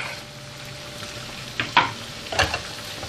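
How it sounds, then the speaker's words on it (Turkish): Chopped, peeled tomatoes drop into a pan of vegetables frying on the stove, with a steady sizzle and a few short stirring scrapes. "Şimdi 2 adet doğramış olduğum domateslerimi ekliyorum."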